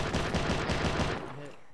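Rapid bursts of gunfire close by during a military operation, rounds cracking in a dense, loud series that tapers off near the end, with a voice briefly heard.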